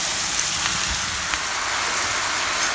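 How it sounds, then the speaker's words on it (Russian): Seafood sizzles in hot oil with soy sauce while being stirred toward a light golden crust, a steady, dense crackle that sounds almost like rain, close and continuous with faint scraping touches. "И помешивая, обжариваем до слабо золотистой корочки."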